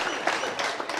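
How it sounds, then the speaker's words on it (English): A brief burst of audience clapping at a marketing and branding talk: dense, continuous patter from many hands, moderately loud, with no speech over it. "You can clap."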